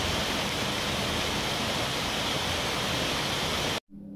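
A dense, continuous roar of rushing water from a waterfall at Charkhole, Kalimpong, loud and close, cutting off abruptly near the end.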